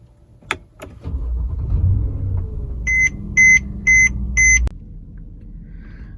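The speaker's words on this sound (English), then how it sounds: "and now we could start the car." Mercedes W212 starting up: a click, the starter cranking into a steady idle, then four short paired electronic beeps from the dashboard before the engine sound stops.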